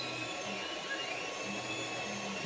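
An Elegoo OrangeStorm Giga 3D printer laying down its first layer gives a quiet, steady whirring hum with soft motor tones that rise and fall. It is heard alone, without talk.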